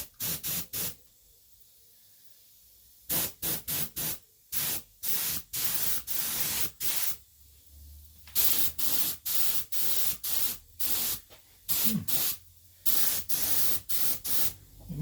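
Short repeated bursts of a 0.5 mm spray gun atomizing paint, a broad hissing spray that starts and stops in quick pulses across the whole stretch, close and fairly loud.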